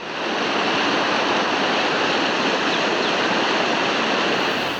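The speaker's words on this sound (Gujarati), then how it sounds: "રસ્તા પર પાણીનો ધસમસતો પ્રવાહ વહેતો થયો" Floodwater rushes along a road in a village in Dwarka's Kalyanpur area during heavy monsoon rain, making a loud, unbroken roar that stays even throughout.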